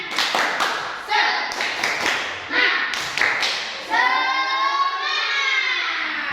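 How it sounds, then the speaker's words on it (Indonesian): A classroom group of children performs a rhythmic spirit clap, with sharp bursts of clapping in a patterned beat, then a sustained sung or chanted response. Voices are mixed in with the claps. "Oke, tepuk semangat."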